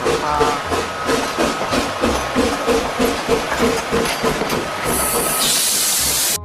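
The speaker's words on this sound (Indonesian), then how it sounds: "Wow, kereta api Thomas." Rhythmic chugging puffs from a Thomas toy train repeat at a steady pace, like a small train rolling along, ending in a bright hissing burst of steam.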